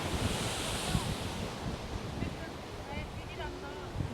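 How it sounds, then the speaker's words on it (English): Powerful Sicilian ocean surf surges and crashes against a sea wall or cliff face in a steady, loud roar with wind buffeting the microphone. "this surging ocean that is offering me life in this moment. Just look at it. Look how powerful it is. As it's crashing against"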